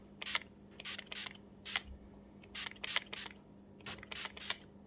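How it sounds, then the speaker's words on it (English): Short hissing bursts of hairspray in irregular clusters, several quick puffs at close range over a quiet background hum. "I'm going to spray it from a distance with hairspray."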